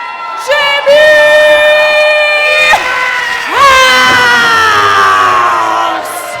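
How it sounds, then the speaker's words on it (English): A crowd at a wrestling show cheers, shouts and whoops loudly and continuously, with a brief dip in the middle before the roar swells again. "They are cheering for Hit, they're cheering for Jimmy House. And some of them cheering for both at the same time."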